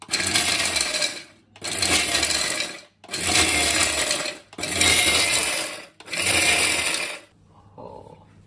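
A kitchen mixer grinder runs in five loud, roughly one-second bursts, each a harsh whirring roar with short pauses between, as ingredients for a homemade malted health-drink powder are ground, followed by a quieter rattle.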